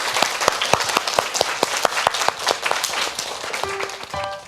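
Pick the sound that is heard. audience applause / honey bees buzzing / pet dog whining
audience applause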